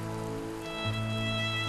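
A rain shower falls on a fishing boat catching gizzard shad off Seocheon, a steady soft hiss of drops laid over the low, even hum of the boat's engine, with no talk.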